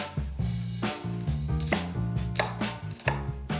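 A knife chops vegetables and garlic on a cutting board for a Gullah gumbo, with quick, steady, close-up thuds that repeat in an even rhythm and carry no talking.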